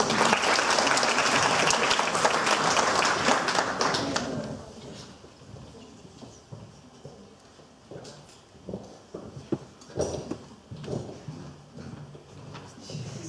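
Audience applause at an awards ceremony, loud dense clapping for the first four seconds, then dying away into scattered claps, taps and light room noise.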